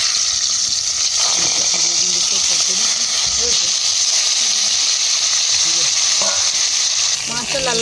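Fish rubbed with salt and turmeric sizzles and spits loudly in hot oil in a wok, a steady dense frying hiss throughout with occasional stirring clatter and a faint voice in the background.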